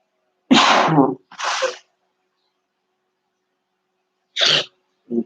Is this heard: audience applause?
no